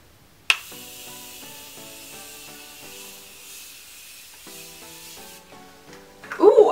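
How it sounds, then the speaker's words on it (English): Setting spray is misted onto a face during a makeup application: an abrupt, close hiss that holds for several seconds beneath soft background music. "now let's put this setting spray to the test"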